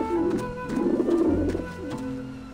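Pigeons cooing in the video game Grim Fandango, soft rolling coos repeated over a low ambient background, close and steady with no talking.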